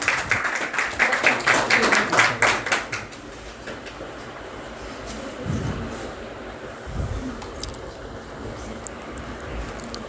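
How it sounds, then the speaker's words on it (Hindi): An audience at an academy felicitation for a PCS officer claps together in a burst of applause for a couple of seconds, then fades into quiet room murmur with a few scattered taps. "सब लोग ताली बजा करके हेमंत का सम्मान करें।"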